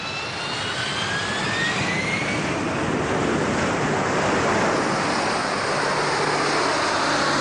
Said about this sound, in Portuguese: 11 toneladas de impulso erguem as 9 toneladas do Harrier numa reta vertical.